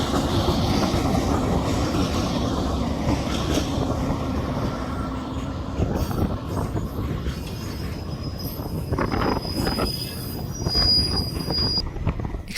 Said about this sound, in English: That was TD606 and 604 hauling empty fuel tankers to the port town of Walvis Bay